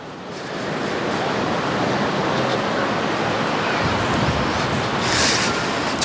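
Steady surf washing onto a Cornwall beach near mussel-covered rocks and caves, a continuous broadband roar with a brief swell toward the end, wind brushing the microphone, no voices.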